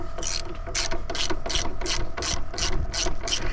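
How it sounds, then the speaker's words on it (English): A ratchet fitted with a 30 mm socket clicks in rapid bursts, about nine quick strokes, while loosening a corner check valve on an 8 GPM pressure washer pump; close and crisp over a faint background hum. "Now I will take my 30 millimeter socket and I will remove this corner check valve from the 8 GPM pump."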